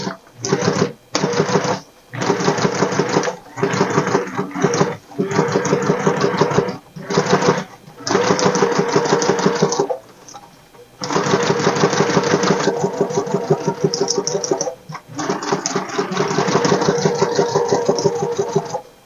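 A sewing machine with a walking foot stitches in loud, close bursts of rapid mechanical whirring, stopping and starting repeatedly with short pauses between runs.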